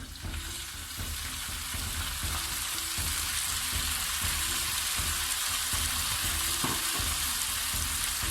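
Red oil poured over pounded potatoes, giving a steady sizzling hiss that persists with a faint rhythmic pulsing beneath.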